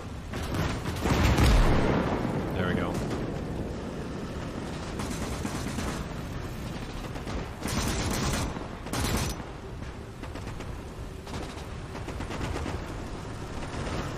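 Machine gun fire in Call to Arms: Gates of Hell Ostfront, dense rattling bursts and a busy battlefield din, loud and continuous with a heavier blast near the start.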